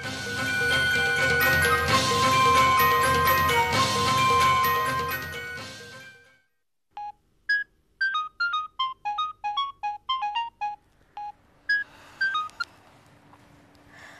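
A loud melodic phone ringtone plays for several seconds, then stops, followed by a quick series of short electronic beeps like keypad tones.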